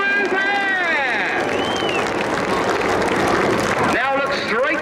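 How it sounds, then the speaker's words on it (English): Big outdoor crowd applauding and cheering for the Red Arrows synchro pair at a Cleethorpes Armed Forces Day air display, a steady dense roar of clapping throughout with whistle-like tones sweeping over it. "let's have a huge round of applause for the synchro pair"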